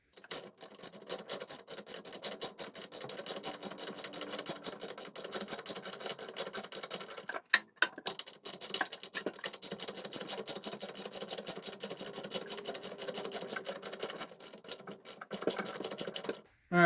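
A ratchet wrench turns a bolt on a Mercedes W126 axle, giving off fast, even clicking that runs steadily and close up for most of the stretch, with a short pause partway through before the clicking resumes.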